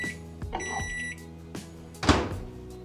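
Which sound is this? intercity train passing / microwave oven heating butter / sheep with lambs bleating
microwave oven heating butter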